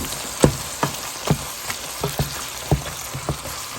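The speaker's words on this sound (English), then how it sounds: "you're going to go ahead and cook this and mash it all up" Ingredients for cheesy baked spaghetti, seasoned with salt, sizzle in a pan while being mashed and stirred, a close steady crackle with irregular louder pops and scrapes, and no voices.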